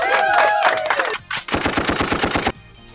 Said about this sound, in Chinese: 怎么还有打枪的声音